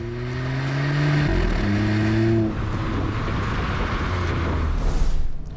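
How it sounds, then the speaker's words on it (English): Hyundai Venue N Line revs up with a throaty, rich exhaust note, engine tones climbing and stepping through gears, loud and close with a rough, rumbling edge near the end and no talking. "a throatier, richer exhaust note adds to the sporty credentials of the car"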